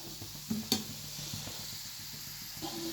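Carrot pieces cooking in oil for lemon rice, a quiet steady sizzle with a few brief stirring clinks and scrapes close by, short and without talk.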